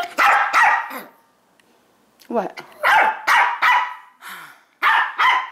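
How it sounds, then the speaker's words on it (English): Several dogs bark excitedly at a squirrel, with repeated loud, close bursts of barking and yips separated by short pauses, and a person briefly speaks. "These dogs are going crazy from a squirrel."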